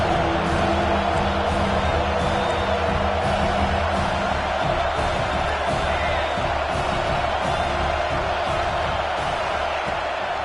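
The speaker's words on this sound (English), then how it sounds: "The Tide crowd rolling noise down onto Saban Field on 3rd down" A stadium crowd in the College Football 26 video game roars steadily on third down at Saban Field, a dense constant wash of cheering and noise with no letup.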